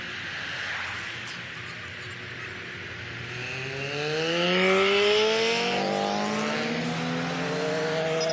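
Volkswagen Beetles roll along in a long line during a cruise to a marina in Daytona Beach, engines droning loudly nearby with a rising rev and gear changes as one accelerates past.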